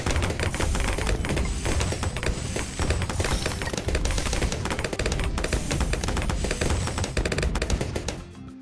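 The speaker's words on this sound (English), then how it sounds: "But guess what? I got a cannon." Rapid, dense bursts of cannon fire in the video game Bloons, a loud continuous barrage of sharp repeated shots and pops that cuts off near the end.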